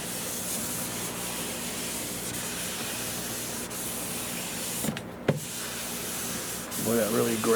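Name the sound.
scuffing a French polish wood finish to remove lint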